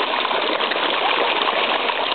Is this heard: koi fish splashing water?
yes